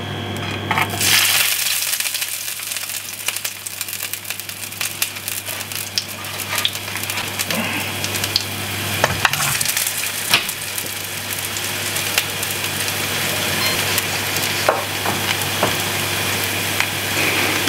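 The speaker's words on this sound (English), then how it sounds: "I think to try and save these burgers, I'm actually going to pan fry them as well." Vegan and meat burgers pan frying in olive oil give a steady, close sizzle with crackling and occasional pops throughout, with no talking.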